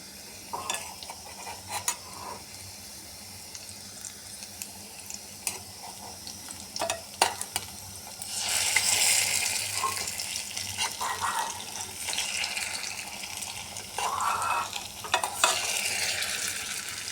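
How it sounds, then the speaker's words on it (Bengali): Batter-dipped stuffed teasel gourd pieces frying in hot oil: a soft, steady sizzle with scattered clicks and taps as pieces are turned, swelling into louder bursts of hissing crackle midway, nearby and without voices. "এভাবে সবগুলাকে ব্যাটারে চুবিয়ে ফ্রাই করে নিচ্ছি"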